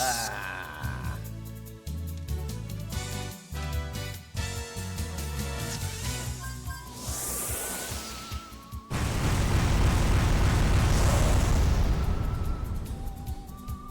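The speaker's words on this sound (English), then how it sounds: "having the best cannon available seems to really speed up sandcraft combat" Sandcraft cannon fire during combat in the video game Wild Arms 3, heard as layered bursts over game music, ending in a long loud rumbling blast that sustains for several seconds.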